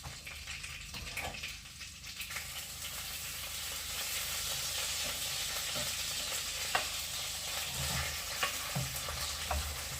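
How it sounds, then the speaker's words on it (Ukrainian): Steady sizzling and crackling of onions frying in a hot pan, with occasional scraping stirs, close and continuous with no talking. "ось тепер, поки цибуля буде смажитись"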